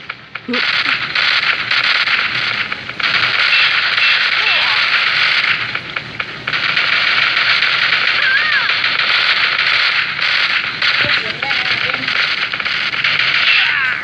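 Rapid bursts of automatic gunfire from the shooting video game Headshot, loud and sustained with short gaps between volleys and a few sharper single shots.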